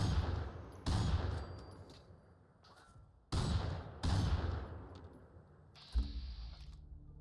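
Raider gunfire in Fallout 4, several loud, sharp bursts and single shots spaced a second or two apart, each ringing out with a decaying echo, followed by mechanical clicks.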